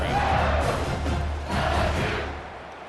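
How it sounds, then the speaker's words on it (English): A large video game stadium crowd in EA Sports College Football 25 roars and yells continuously at an LSU game, a dense wash of voices swelling and dipping slightly. "for an entire game, they are on their feet, yelling, screaming"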